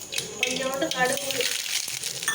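Mustard seeds sizzle in hot oil while tempering a chutney, a steady crackling hiss that runs throughout at close range.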